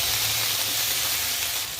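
Ginger paste fries in hot oil with panch phoron for a Bengali shukto, giving a close, steady sizzle that fades slightly at the end.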